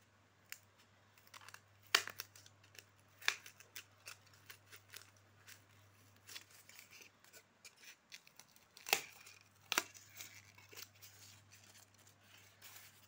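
Scissors snip through styrofoam being cut into wheels for a homemade toy car, a quick irregular series of sharp close clicks and crunches over a faint steady hum.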